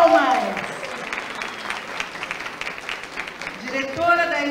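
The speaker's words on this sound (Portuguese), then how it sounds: "Por favor, uma salva de palmas." An audience at a racial equality forum breaks into applause, a dense wash of many hands clapping that swells and holds, with a voice speaking at the start and again as the clapping fades.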